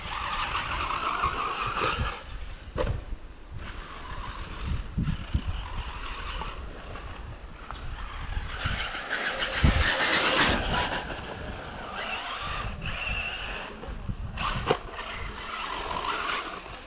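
A radio-controlled model buggy drives around a model club track outdoors, its motor whining and rising and falling as it passes, with gusty wind buffeting the microphone throughout.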